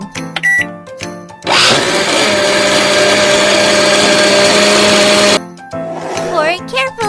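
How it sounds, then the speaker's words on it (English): A video game blender whirs loudly for about four seconds making a chocolate ice cream milkshake, a steady high grinding hum, framed by short chimes and cheerful game sound effects before and after. "Let's put some chocolate ice cream in the blender."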